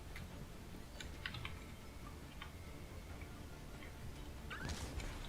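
Computer keys are tapped while playing Overwatch, including Tab and Enter presses, giving a scattering of light, irregular clicks over a low background hiss, with a brief denser burst near the end.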